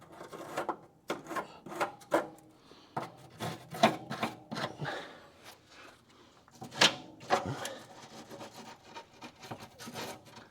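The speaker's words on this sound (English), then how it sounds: "So if I just brush the back of the threads," A wire brush scrubs the back side of rusty through bolt threads on a Crew Cab Charger under restoration, a run of close, uneven rasping strokes with brief pauses between them and no talking.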